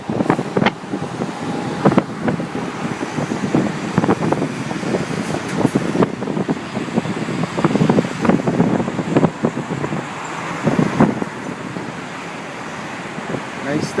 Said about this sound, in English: It is windy as windy can be.